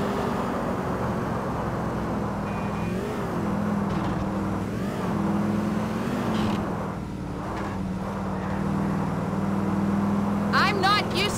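A car in GTA IV drives with a steady engine hum and road drone throughout, rising slightly at times while characters talk over it.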